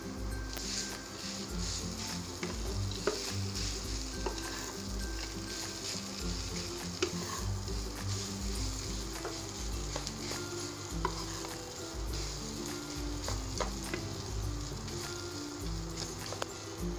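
Steady sizzling from a hot pan of mashed boiled potatoes frying, with occasional scraping and clinks of a utensil stirring, continuous and close.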